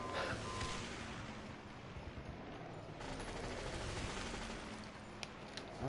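Gunfire in the Battlefield video game, dense distant bursts and rattling volleys under steady battlefield rumble, with a couple of sharper cracks near the end and no talk.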